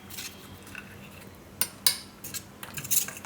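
Custard powder being stirred into room-temperature milk in a bowl, the spoon scraping and clinking against the sides in a few sharp taps over a soft, quiet stirring swish.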